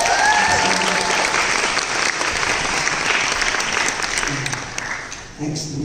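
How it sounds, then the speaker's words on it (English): A theatre audience at a live stage show applauds steadily and fairly loudly for about six seconds, a dense wash of clapping with a few voices mixed in before it starts to thin near the end. "Give her a round of applause again."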